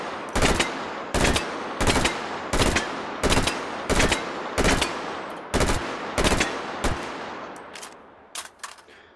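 An M16/AR15 rifle fires in the VR shooting game H3VR as a steady series of loud, sharp semi-automatic shots. There are about a dozen evenly spaced reports, closely miked, and the last few are quicker and less even.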